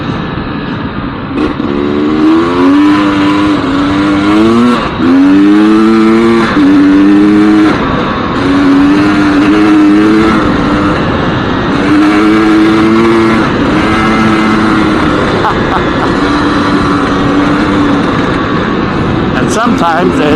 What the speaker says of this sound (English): the front end of this 2-stroke is probably quite a bit lighter than the Husqvarna